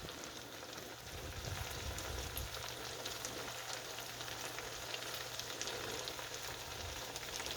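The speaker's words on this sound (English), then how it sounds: "they are frying in margarine and olive oil" Steady sizzling of apples frying in margarine and olive oil in a skillet, a continuous crackling hiss close by with no voices.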